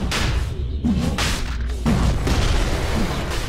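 Deep booming blasts as a bottom tower is destroyed in the video game Dota 2, one heavy thud followed by rumbling impacts, loud and close with no talk.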